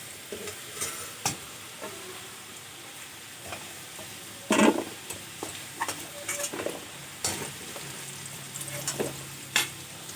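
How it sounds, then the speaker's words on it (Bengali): Potatoes frying in oil, with a soft, steady sizzle close by, broken by repeated scrapes and knocks of a spatula stirring them in the pan. No one speaks. "আলুগুলো লাল করে ভেজে নিয়েছি"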